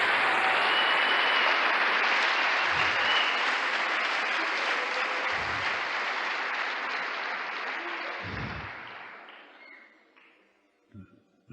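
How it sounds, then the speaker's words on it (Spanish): A crowd applauds loudly and continuously for several seconds before the clapping gradually dies away into near silence. "Un aplauso al Señor."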